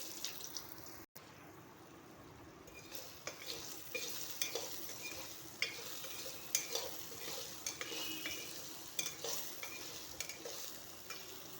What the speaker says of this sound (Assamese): মই কাটি থোৱা আলু কেইপিচ দি দিওঁ এতিয়া